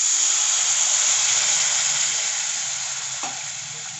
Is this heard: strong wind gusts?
no